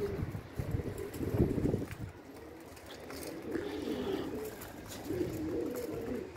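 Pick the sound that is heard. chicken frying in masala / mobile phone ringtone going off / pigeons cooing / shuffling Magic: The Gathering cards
pigeons cooing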